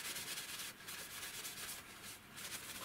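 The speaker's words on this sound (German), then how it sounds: "dann muss man das Ganze noch polieren, damit das richtig schön metallisch wird" Painted surface of a black cast book box being polished to a metallic sheen, making a steady, faint, close rubbing sound that continues throughout with slight strokes, no speech.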